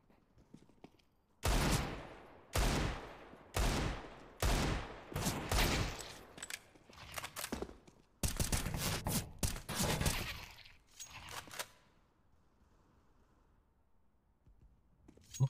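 Bursts of rapid gunfire from Counter-Strike: Global Offensive, several loud volleys in quick succession, then a longer sustained spray before a quiet stretch with a faint final shot.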